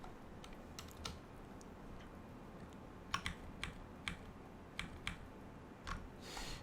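Typing a command on a computer keyboard while setting up a home server, faint scattered key clicks in short irregular bursts over a low steady background hum.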